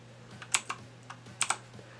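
Keys are pressed on a Z-77 computer keyboard with light-up keys, giving sparse, crisp clicks in small irregular clusters over a low steady hum, with no talk.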